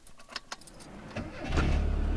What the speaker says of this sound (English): engine starts up easily